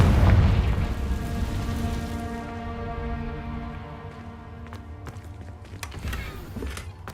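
A fiery Confringo spell from Hogwarts Legacy bursts with a heavy boom at the outset, its tonal roar ringing out and fading over several seconds, with sparse clicks and pops trailing after.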